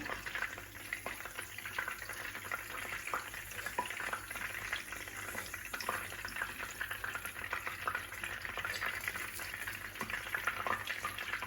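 Breaded slices of sandwich bread frying in oil, a steady crackling sizzle with frequent small pops and spatters, close and fairly quiet, no talking.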